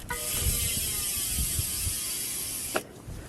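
Industry 9 Hydra rear hub on a mountain bike with Noble TR37 rims, freewheeling in a fast, dense ratchet buzz of tiny clicks that runs steady and close for nearly three seconds before cutting off.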